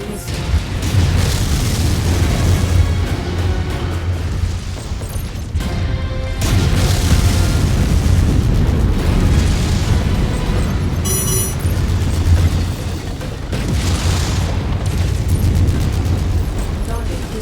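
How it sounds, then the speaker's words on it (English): Repeated heavy missile blasts during mech combat in MechWarrior 5: Mercenaries, deep rolling booms and crashes filling the scene almost continuously, loud and near, with in-game voice announcements heard between them. "Incoming missile."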